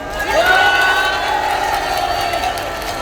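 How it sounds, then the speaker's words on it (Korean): An audience at a Korean talk concert lets out a loud, rousing collective cheer and shout, a bright roar of many voices that swells early and then holds steady. "보신 분들 힘찬 함성 한번 질러주시겠습니까?"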